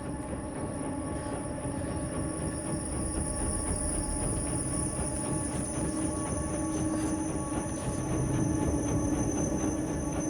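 Steady rolling rumble of a train moving along rails in the side-scrolling puzzle game Inside, with dense low rattling and faint high squealing tones held throughout at an even, moderately loud level, no voices.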